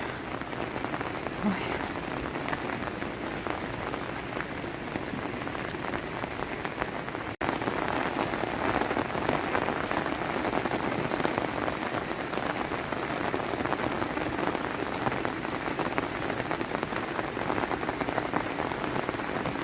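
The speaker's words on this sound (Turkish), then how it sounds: "Yağmur sesinin altında." Steady rain pours down, a dense, even patter on surfaces that continues throughout and grows slightly heavier partway through.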